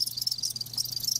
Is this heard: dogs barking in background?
no